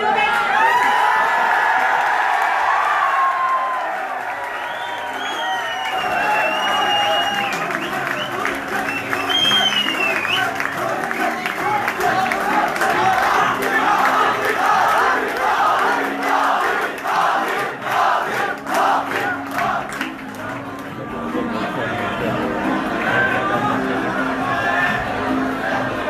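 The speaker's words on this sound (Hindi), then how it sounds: "आप सबकी भरपूर तालियों में" A crowd at an Urdu poetry gathering bursts into applause and cheering as a poet is welcomed, with loud clapping, whoops and shouts swelling and sustained for over twenty seconds, voices calling out throughout.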